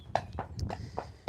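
A Friesian mare's shod hooves clip-clop at a steady walk while ridden through Cartmel village, about five crisp, close hoofbeats in quick succession, no talking.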